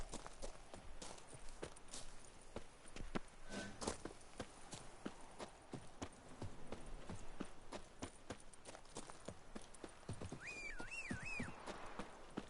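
Roach, Geralt's horse in The Witcher 3: Wild Hunt, clip-clops along at a steady walking pace, hooves thudding close and moderately loud over soft ambient game sounds, with a brief whinny-like call near the end.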